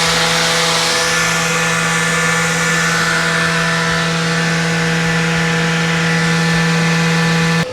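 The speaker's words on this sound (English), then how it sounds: "Now let's turn on our sander." A battery-powered sander runs continuously alongside a dust extractor set on high, giving a loud, steady motor whine with a strong tonal hum, close by and without any talk.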